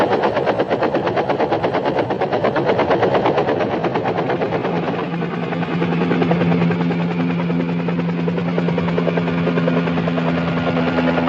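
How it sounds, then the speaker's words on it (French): A helicopter flies close by with a loud, steady thumping rotor chop over engine whine, holding on continuously for the full stretch with little change. "Prends l'hélicoptère, en moins d'1 heure,"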